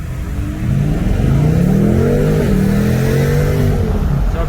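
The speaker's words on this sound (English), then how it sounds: "that was a very, very quick acceleration, just to show you guys this thing really picks up quite quickly" A 2019 BMW M850i xDrive First Edition's 4.4-liter twin-turbo V8 accelerates hard, the engine note climbing steadily in pitch through the gears, loud and close from inside the car, with no talking.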